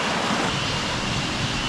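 Small waterfall on a coffee estate pouring steadily, a loud, dense, unbroken rush of falling water heard close up, with no voices.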